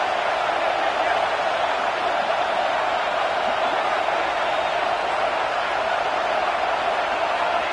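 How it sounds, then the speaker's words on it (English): A college football stadium crowd roars steadily and loudly throughout, a dense continuous wash of cheering with no pauses. "Listen to the crowd energy here in the early going."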